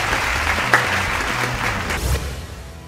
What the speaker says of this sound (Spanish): Un aplauso por favor para Liam Neeson.